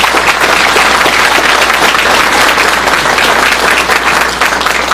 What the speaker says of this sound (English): Let's have one big round of applause for all our finalists.